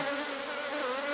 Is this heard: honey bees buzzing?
yes